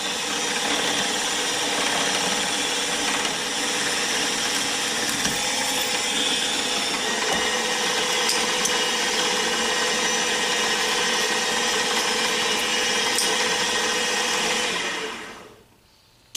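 A power drill bores a hole through a fillet knife blade, a loud, steady whirring grind that holds for about fifteen seconds, then winds down and stops.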